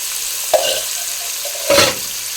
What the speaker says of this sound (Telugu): 2 ఉల్లిపాయలు పెద్దవి, 4 పచ్చిమిర్చి కట్ చేసుకున్నానండి నేను. ఇవైతే వేయించుకుందాం.